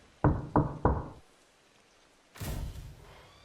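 Three quick, heavy knocks in a row ring out in the ambience of the video game Pressure, followed by a pause and a duller, longer thump, all alone with no voices.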